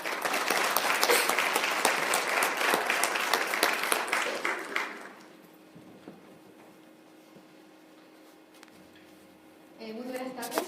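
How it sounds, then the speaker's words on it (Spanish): Audience at a Chilean-European women's gynecological health conference in Calama breaks into loud, dense applause that fills the first five seconds and then stops, leaving a quiet room before a voice begins speaking. "Recibámosle con un fuerte aplauso."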